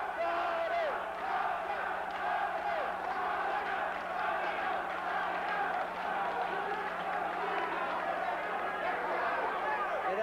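A dense, roaring boxing arena crowd during a light-heavyweight bout, a steady wall of cheering and shouting that stays loud throughout, with a commentator's voice running under it.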